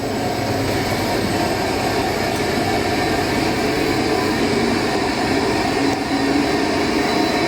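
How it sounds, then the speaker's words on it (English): A gearbox on a motor drive winding up to high speed, giving a loud, steady mechanical whine with broad roaring noise that holds constant throughout, no voices present. "that gearbox is winding up"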